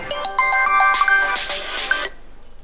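An electronic phone ringtone plays a bright, repeating melody of tones for about two seconds, then stops.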